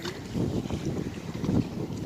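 Strong, cold wind blows along a seaside shore, making a continuous blustery rumble that buffets the microphone, with no voices.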